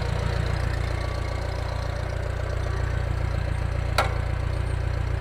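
IH 504 tractor engine running steadily with a deep, even low rumble, loaded down by its hydraulic pump, with one brief sharp click partway through.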